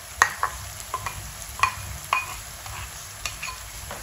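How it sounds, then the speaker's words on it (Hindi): A spoon stirring yogurt mixed with gram flour into onions in a pan for an okra dish, sharp metallic clinks and scrapes over a faint low sizzle, spaced irregularly. "ऐसे चम्मच बीच में चलाते रहना कि दही प्याज के अंदर सही तरह मिक्स हो जाए"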